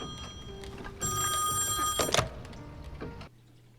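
A telephone rings in the horror video game Song of Horror, a bright electronic trill that starts abruptly, holds for about a second, then gives way to a few thumps before falling quiet.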